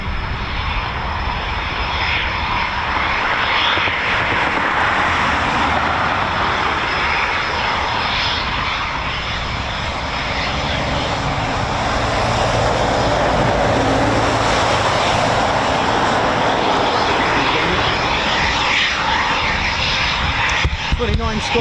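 Eurofighter Typhoon FGR4 jet engines at RAF Coningsby produce a loud, sustained roar that stays strong and continuous from start to finish.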